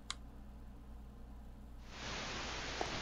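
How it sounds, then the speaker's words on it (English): Radio static from an indie horror video game: a steady low hum gives way, about two seconds in, to a loud, even hiss of white noise that holds to the end, with no voices. "Oh, good. It's white noise."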